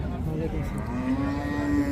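One cow at Hazratpur cattle market lets out a long, steady, drawn-out moo, close and clear over faint market background noise.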